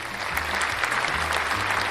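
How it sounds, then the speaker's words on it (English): An audience applauds at a comedy show, a brief burst of dense, steady clapping that fills the short stretch with no voice on top. "Applaud me!"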